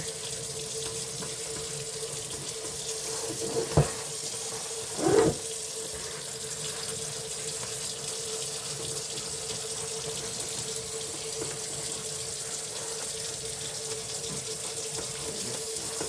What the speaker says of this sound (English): just using this hose I have on my sink makes this so much easier